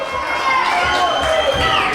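Arena crowd cheering in a TSW online wrestling video game, a steady loud roar of many voices filling the whole stretch, with rising swells of excitement.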